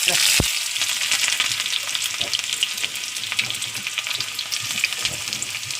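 Onions sizzle and crackle loudly in hot oil in a clay pot, a dense continuous frying hiss with occasional stirring sounds, heard up close.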